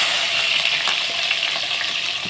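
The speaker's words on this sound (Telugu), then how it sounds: "మనం ఇందులో ఇప్పుడు పచ్చిమిర్చి వేసుకున్నాం" Green chillies frying in hot oil in a pan for a soy chunk keema curry, giving a steady, dense, close sizzle that holds evenly throughout without a break.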